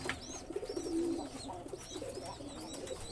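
Homing pigeons coo softly nearby, a few low throaty calls over faint background chirps and rustle, no talking.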